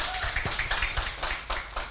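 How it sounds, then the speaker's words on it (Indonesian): Congregation applauding during a church worship service, a dense, steady patter of many hands clapping together at close range for a couple of seconds. "Tepuk tangan yang meriah bagi Tuhan."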